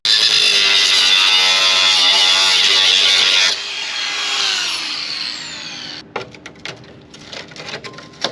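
A power tool grinds loudly and steadily through old rusty steel angle iron while a Mazda Parkway is being lowered, with a harsh, bright whine for several seconds. It then drops to a lower tone and ends in scattered clanks and knocks.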